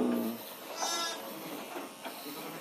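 A sheep bleats once or twice during shearing, a short wavering cry in the middle of quiet background noise, fairly faint.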